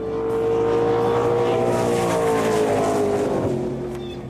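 Drag racing car on a converted airstrip, a loud sustained engine roar with a steady high whine that swells, then shifts pitch and fades slightly as the car passes.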